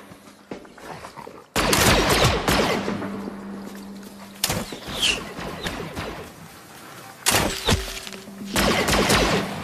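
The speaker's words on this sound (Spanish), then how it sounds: "esos dos son Stormtroopers que están disparando por esos tipos de rebeldes de la fuerza" Stormtroopers fire at rebels in a Fortnite match, with dense bursts of blaster fire, impacts and crashes that come in loud waves over several seconds.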